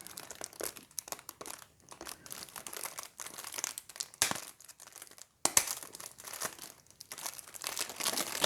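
Crinkly plastic wrapping on a pack of cards for the card game Set a Watch crackles and rustles up close as it is opened, in irregular crumpling bursts with a short pause midway.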